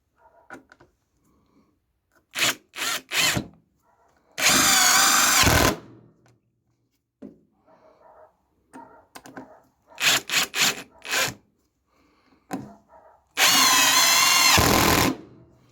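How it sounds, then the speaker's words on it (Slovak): A Parkside Performance cordless impact wrench, set to its minimum 120 Nm, drives a screw: three short whirring bursts lead into a longer, loud hammering run, then the same pattern repeats, with quiet pauses and no talk. "Tak a budem pokračovať rázovým úťahovákom na minimálnej sile 120 Nm."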